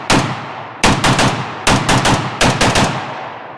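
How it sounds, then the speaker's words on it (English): A Bulgarian SAM7SFC carbine with a machined receiver fires four loud, close bursts of rapid shots, each a quick cluster of sharp cracks with brief ringing decay and short pauses between, no talking. "let's continue to put a few rounds through it, see how it does"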